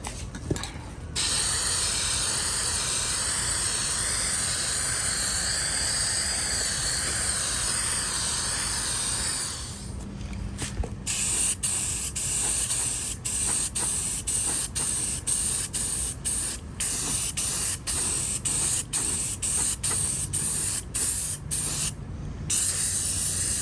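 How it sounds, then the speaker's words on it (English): Hammered gray spray paint hissing from a nearly empty aerosol can onto a junked Schauer Model B4612 battery charger: a long continuous hiss, then a string of short, sputtering bursts close by. "This can is almost empty of hammered gray."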